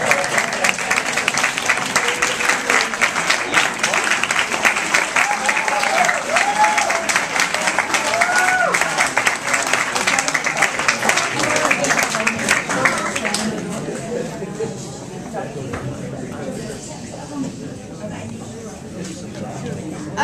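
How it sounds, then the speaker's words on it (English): An annual meeting audience applauds volunteers who have stood to be recognized, a loud, dense round of clapping with some crowd murmur that carries for about thirteen seconds before thinning to scattered claps and quieter room noise. "give you a much-deserved round of applause"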